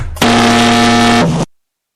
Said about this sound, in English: That buzzer.